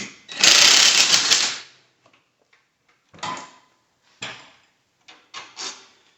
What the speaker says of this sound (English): I'm gonna remove my top nut, which is my top bolt, which is a 17 nut.